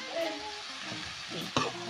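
Vegetarian pancit noodles sizzle in a frying pan as they are stirred, a steady close hiss broken by soft scraping and a sharper clatter near the end.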